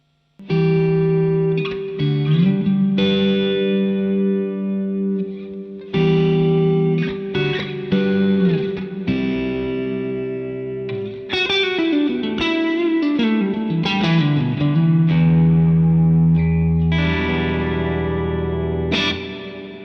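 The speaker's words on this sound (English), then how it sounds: "it's a really lush sounding reverb" Electric guitar through an MXR M300 reverb pedal on its plate setting with the decay turned up, chords and lines ringing into long, lush tails that overlap between phrases, loud and up close, no talking.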